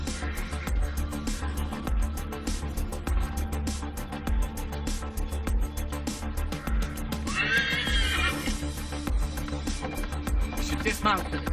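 A horse in Assassin's Creed 3 gallops with steady rhythmic hoofbeats under music, then gives a loud, shrill whinny partway through before the pounding hooves carry on.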